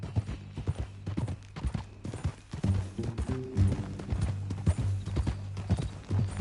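Horse hooves in the video game Red Dead Redemption 2 clip-clop in an uneven walking rhythm, fairly close, with occasional creaks and light clatter around them.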